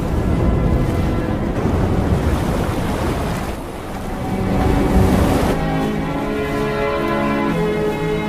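Ocean waves wash up on a beach in a continuous loud roar of surf, with wind buffeting the microphone, a swell building midway before easing into a softer, steadier rush.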